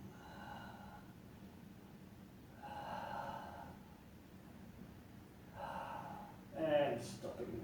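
Slow, deep breathing exercise breaths, about four long airy inhales and exhales spaced a couple of seconds apart, close and fairly quiet, the last one sharper and more forceful.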